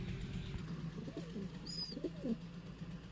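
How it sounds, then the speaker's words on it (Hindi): Caged pigeons coo softly in a few low, throaty bursts amid quiet background noise, with one brief high chirp near the middle and no voices. "छोटा केज है तो सारे के सारे पिजन अंदर आए हैं"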